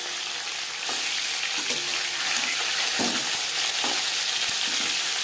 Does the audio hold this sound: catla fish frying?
yes